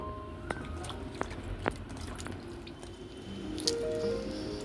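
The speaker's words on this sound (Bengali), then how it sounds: "তার জন্য আমি জলের মধ্যে আমটা দিয়ে দিচ্ছি।" Roasted raw mango is set into water for peeling, with scattered soft drips and light liquid splashes over a steady background hiss, close and fairly faint.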